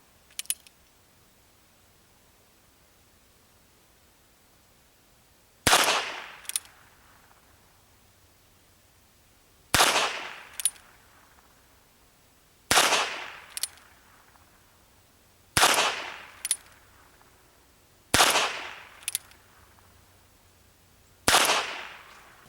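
Ruger Wrangler revolver fired at a target outdoors, seven sharp separate shots spaced a few seconds apart, each a loud crack with a quick echoing tail, against a quiet background.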